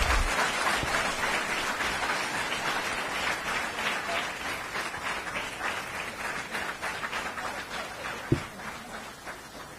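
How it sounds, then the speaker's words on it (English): A hall full of people at a university day award ceremony claps in sustained applause, fairly distant and gradually thinning toward the end, punctuated near the close by a single sharp thump. "Let's have a huge round of applause."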